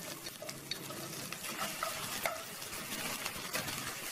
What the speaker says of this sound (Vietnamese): Chờ cho tỏi vàng thơm lên rồi thì em sẽ cho vào đây 100g hành tây đã sắc hạt lựu.